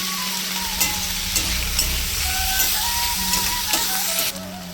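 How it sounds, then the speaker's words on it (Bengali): Chopped flat beans and potato frying in a pan, a steady close sizzle and hiss with occasional scraping stirs and clinks of a spatula. "আর আমি দিয়ে দেবো সেই কুচনো সিম আর আলুটা, এটা দিয়েও ভালো করে নিয়ে নেবো আমি, না এটা দিয়েও ভালো করে ভেজে নেবো।"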